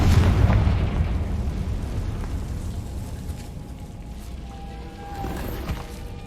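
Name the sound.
explosion spells Bombarda and Confringo in video game Hogwarts Legacy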